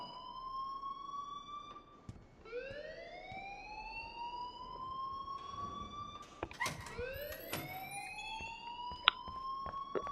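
Fire alarm in the video game Life Is Strange, a repeating electronic wail rising in upward sweeps several times, sounding alone at moderate level with faint background clicks.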